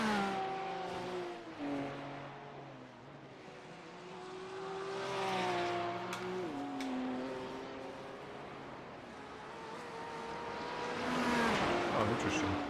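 A GT3R race car in the iRacing video game circuit at the Nürburgring gives a continuous, moderately loud engine drone with rising and falling pitch through gear changes and a faint transmission whine, while a person talks over it.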